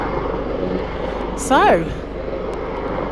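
Noisy helicopter passing overhead near a cliff-top field, its steady low rotor and engine drone filling the background while a person talks close by.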